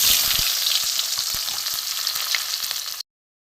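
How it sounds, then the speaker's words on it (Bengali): Onion frying in oil with a pinch of black cumin for a fish curry, a strong steady hiss crackling with small pops, close and loud, ending abruptly. "এতে পেঁয়াজ দিয়ে দেবো।"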